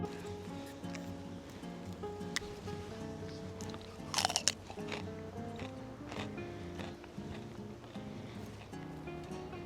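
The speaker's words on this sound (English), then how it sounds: "Chewing sounds." Someone chews something crunchy close to the microphone, with soft repeated crunches and one sharp bite in the middle, while quiet music plays underneath.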